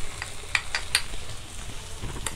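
Ground turmeric stirred into onion, ginger and garlic frying in a pan for a Bengali bhola fish masala curry: a steady soft sizzle with a few brief scraping stirs, close and alone with no talk.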